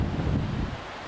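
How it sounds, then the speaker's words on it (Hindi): Cold wind rushes through a forest beside a flowing stream near Namblan waterfall in Baramulla, Kashmir, as a steady broad rustling hiss with buffeting on the microphone, close and moderately loud, with no voices. "जो नाला है यहाँ से बहता है, बहुत ही ठंडी हवा आ रही है।"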